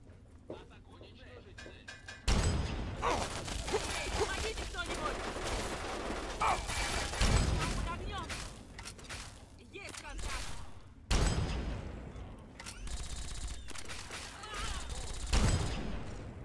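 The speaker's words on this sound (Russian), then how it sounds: "да им вообще пофигу на мои выстрелы из гаусс-пушки" Loud bursts of gauss rifle fire from combat in Fallout 3: Broken Steel, several sharp broadband shots over a dense, continuous din of battle noise.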